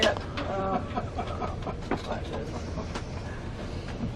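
Spirit of Queensland passenger train running between Tully and Brisbane, a steady rolling rumble with faint clicks of wheels on rail joints and brief tonal squeals, heard from inside the carriage.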